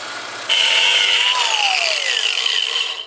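A drill drives a long 3/16-inch, 6-inch bit into wood up close, a loud whining grind that starts abruptly and holds steady, its pitch sliding down as it works through.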